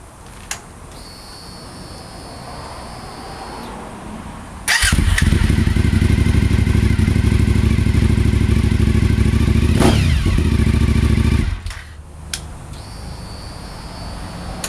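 A Suzuki SV1000S motorcycle with a new exhaust starts up with a thump, then idles loud and close in a deep, steady rumble for about seven seconds before cutting off, with clicks and a quiet hum before and after.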